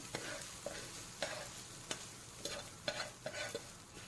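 Spaghetti noodles being stirred together with fried ingredients in a pan, a soft steady sizzle under repeated scraping strokes of the spoon, close and fairly quiet, with no voices.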